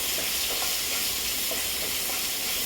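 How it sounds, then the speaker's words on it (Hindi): Onions fry in a pan over a medium flame, a loud, continuous, close sizzle with faint stirring ticks and no voices. "प्याज को मैं भून लेती हूँ।"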